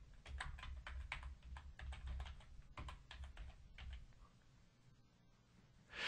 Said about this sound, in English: we'll type in the name of our first video